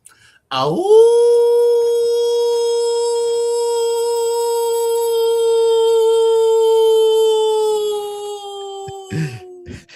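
A single long, loud dog howl rises sharply, then holds a steady, slightly falling tone for about nine seconds before trailing off, with no voices.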